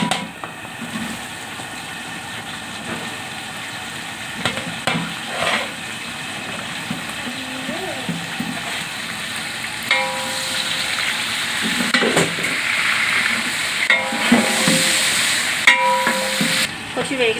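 Onions and green chillies fry in a large pot for a big batch of vegetable biryani, a continuous close sizzle broken by scraping stirs and metallic clinks of a ladle against the vessel.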